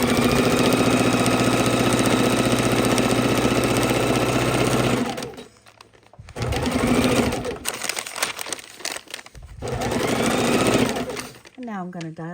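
A sewing machine stitches raw edge appliqué on fabric, running in a loud, steady mechanical hum for several seconds, stopping briefly while the fabric is turned at a boot-shaped point, then starting again in bursts; a voice talks between runs.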